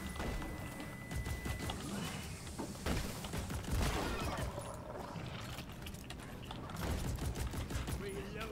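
Automated turret firing in the Deep Rock Galactic video game, rapid bursts of gunfire and heavy thumps layered with other combat noise, steady and loud throughout with players talking over it.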